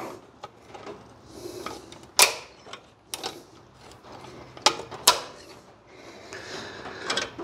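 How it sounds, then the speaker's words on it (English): Ratchet wrench backing out the final bolt on a drill press motor, irregular metallic clicks and clacks with a few sharp knocks, close and moderately loud in a quiet workshop. "as I'm removing the last bolt."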